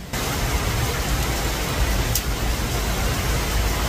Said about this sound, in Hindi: तो कमेंट में बताइएगा कि आपके यहाँ पे बारिश हो रही है अभी भी इतनी तेज़ या नहीं।